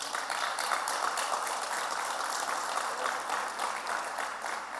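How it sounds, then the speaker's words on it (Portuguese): A church congregation applauds together in steady, diffuse clapping that holds at an even level, fairly faint and distant, with no voices standing out. "Vamos aplaudir ao Senhor Jesus"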